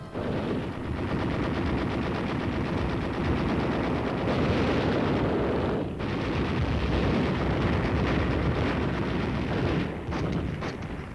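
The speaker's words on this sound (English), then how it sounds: "a preparatory barrage of artillery fire is laid down on the aggressor-held shore" Army exercise river assault with a preparatory artillery barrage and machine-gun fire on an enemy-held shore: a loud, continuous roar of overlapping gunfire and booming blasts, sustained with only brief dips in intensity.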